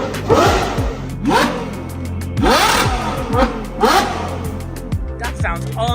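A tuned Ferrari engine is revved up in a shop in about four strong, rising blips, each climbing sharply and then dropping away, followed by a few shorter, quicker ones.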